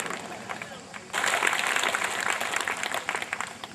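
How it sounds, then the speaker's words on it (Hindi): A crowd at an SBSP political rally at Maharaja Suheldev Rajbhar Maidan in Chitora, Bahraich, Uttar Pradesh, breaks into loud clapping after a quieter opening, dense and sustained for the rest of the clip, with voices mixed in. "जोरदार ताली बजाइए।"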